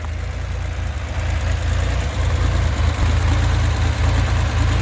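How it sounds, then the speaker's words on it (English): The engine of a 1963 Chevrolet Corvair idles at a roadside stop, heard close up. It holds an even, continuous rumble with a slight rise in loudness partway through, and no one speaks. "Do a quick engine check."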